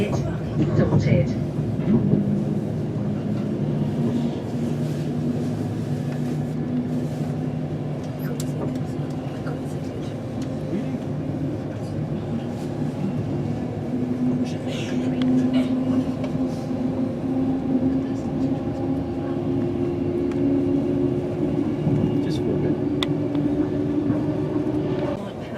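Train pulling out of Crewe station, a steady rumbling drone with a slowly rising whine heard from on board, continuous and moderately loud, with indistinct voices faintly mixed in.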